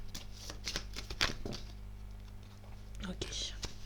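Playing cards are shuffled and drawn from a deck close by, a run of quick papery riffles and flicks with soft taps, steady over a low background hum.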